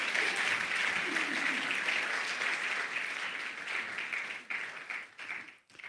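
A church congregation claps and cheers in a sustained burst of applause that fills the room, then thins out and fades toward the end.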